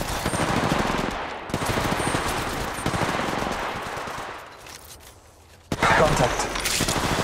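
Rapid automatic gunfire in Apex Legends, loud bursts of rattling shots in several volleys with a short lull before a final sharp burst.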